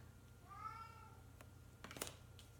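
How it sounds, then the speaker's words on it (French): Pet cat meowing in the morning indoors, one clear drawn-out meow near the start followed by a few soft clicks and taps, faint and close with no talking. "Désolée, mon chat est très jasant le matin."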